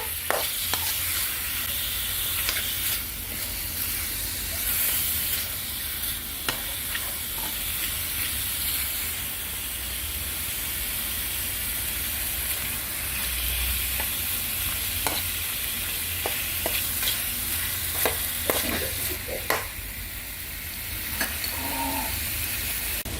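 Chicken stir-fried with pickled lime gives a continuous loud sizzle and hiss, broken by frequent scraping and clacking strokes of a spatula in the pan, with no voices.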